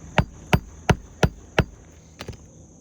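Five sharp, evenly spaced hammer blows drive a nail into an asphalt roof shingle, followed by two lighter taps, close and loud with no talking.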